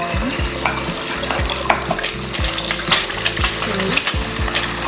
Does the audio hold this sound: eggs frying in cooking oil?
yes